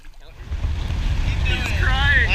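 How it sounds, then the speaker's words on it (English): Small bass fishing boat running at full throttle, a steady low engine drone and rushing water under heavy wind buffeting the microphone, close and loud throughout. "it's windy. We're full throttle."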